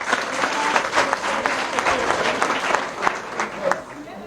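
A crowd claps steadily at an outdoor address by a politician to displaced residents in Adjamé Village, Abidjan, the applause sustained and fairly close with sharp individual claps standing out.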